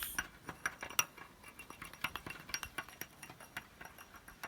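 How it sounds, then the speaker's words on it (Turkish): A utensil clinks repeatedly against a glass while stirring baking soda and food dye, giving quick, light, irregular taps, close and fairly quiet. "Karbonatla boyayı karıştırıyoruz."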